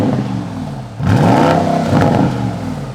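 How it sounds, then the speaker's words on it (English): A 2021 Porsche Cayenne GTS V8 revs up with a rising, throaty exhaust roar, steady and fairly close, swelling twice before easing off. "the engineers at Porsche actually tuned this exhaust to be specifically loud"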